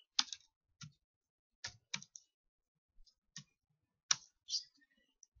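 Computer keyboard keys being tapped: a scattered series of crisp, close plastic clicks at an irregular pace, a few of them heavier like an Enter press, in an otherwise silent room.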